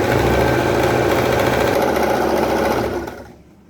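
Sewing machine stitching a petticoat runs steadily with a continuous close whirring hum, then stops near the end, leaving near silence.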